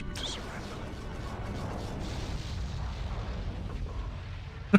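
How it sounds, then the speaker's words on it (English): A video game explosion from a Star Trek title: a dense, rumbling mechanical blast sustained for several seconds with a sharp crack at the end, and no talk over it. "Really awkward looking explosion there."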